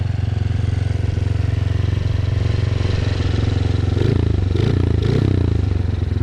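A Honda CRF50 motorcycle fitted with an 88cc big bore kit idles a little high, its engine putting out a loud, close, steady chugging with a slight rise in pitch near the end.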